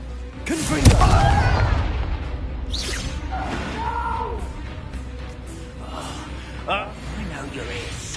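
Confringo fire spells burst into booming explosions in the Hogwarts Legacy video game, a heavy blast up front followed by fainter whooshes and pops over a steady game rumble, with a voice talking through it.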